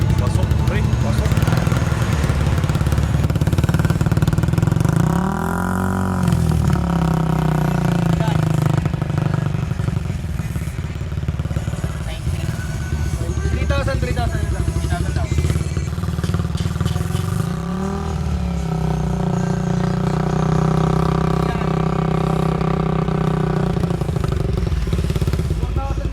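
A Honda ADV 160 scooter fitted with an MTRT Evo 2 exhaust and silencer idles with a steady drone, rising into two short revs. People talk over the engine throughout.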